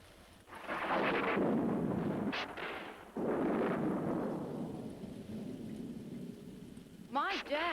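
Thunder during a rainstorm, with heavy steady rain and two long rolling rumbles from lightning, one loud and one following a few seconds later, then fading as another sound briefly cuts in at the end.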